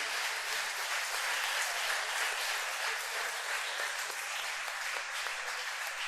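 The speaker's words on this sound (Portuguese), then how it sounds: "Você pode aplaudir o Senhor Jesus por isso?" A church congregation applauding during a service, dense continuous clapping from a large crowd filling the room, steady and fairly loud throughout with no talk.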